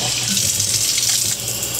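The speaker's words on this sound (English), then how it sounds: "So what we do now, we're going to turn on the water." Steady, hissing rush of water pouring from a tap into a sink, constant and close, with no voices.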